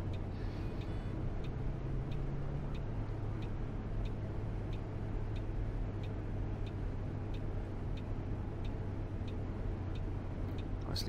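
Turn indicator ticking on a Neoplan Skyliner coach in Fernbus Simulator, a steady evenly spaced run of light clicks over a continuous low engine and road drone.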